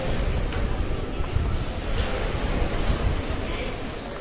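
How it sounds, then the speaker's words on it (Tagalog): Rough surf at Larvotto Beach in Monaco, a steady broadband wash of breaking waves that holds for the whole stretch, fairly loud and continuous with no clear gaps, plus some wind and a busy beach around it. "Malalaki ng alon."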